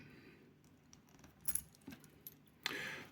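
A set of keys from a winter everyday-carry kit jingles faintly in a few brief, scattered rattles, then gives a louder metallic jangle near the end, up close with no talk.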